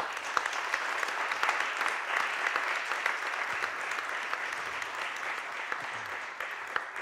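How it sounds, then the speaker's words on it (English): Conference audience applauds the event organizers at a closing session, with steady, moderately distant clapping from a large crowd that holds evenly throughout. "So I think we should all give them all a big round of applause."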